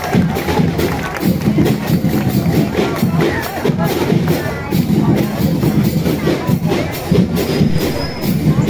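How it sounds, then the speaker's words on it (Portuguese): A crowd at an outdoor school event in Ourém applauds girls in old school uniforms, with dense, continuous clapping and cheering under a busy murmur of voices. "Vamos aplaudir meninas do uniforme antigo!"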